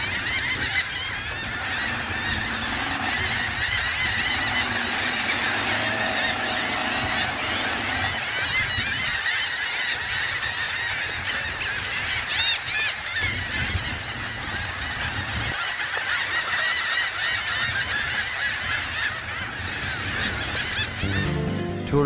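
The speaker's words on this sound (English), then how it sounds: "marine birds display on the beach, the sea, and the air, waiting for the sunset" Marine birds gather on a beach at sunset, with a dense, unbroken chorus of loud honking calls overlapping from nearby, steady for the whole stretch with no voices.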